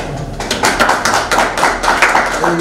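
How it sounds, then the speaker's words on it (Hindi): Loud, steady clapping from many hands welcomes someone at a Sanatan Hindu Vahini meeting. A voice can be heard faintly beneath it. "जोरदार ताली से स्वागत करेंगे"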